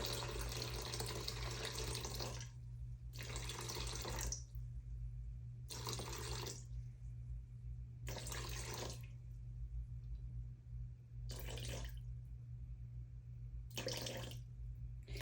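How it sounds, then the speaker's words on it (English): Water pouring from a tap into a bowl for three loaves of sourdough on a kitchen counter, in several separate bursts of splashing flow with short pauses between, over a steady low hum. "Now I need to add my water."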